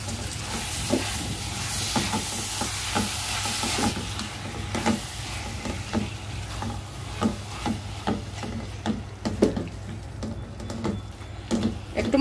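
Dried fish goes into a pan of fried spices for a potato chorchori, giving a steady soft sizzle broken by rhythmic scraping strokes of a stirring spatula.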